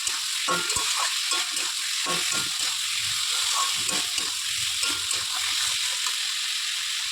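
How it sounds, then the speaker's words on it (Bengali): Spices and paste sizzle in water in a kadai, a steady close frying hiss broken by soft scraping stirs, with no talking. "জল দিয়ে কষিয়ে নেবো ভালো করে"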